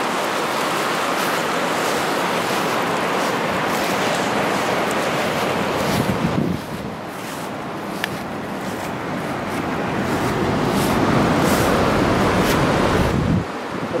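Ocean surf rolls in continuously at the Kamakura Sakanoshita surf spot on a good-wave afternoon, a loud broadband wash of breaking waves mixed with wind buffeting the microphone, with no talking.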